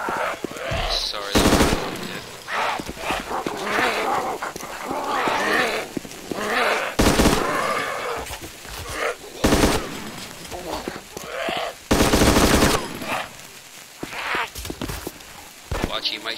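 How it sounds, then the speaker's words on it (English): Bursts of automatic gunfire ring out in the video game DayZ, at night in the town of Berezino, loud sharp volleys repeating among quieter stretches while players talk over the action. "I shoot through the wall."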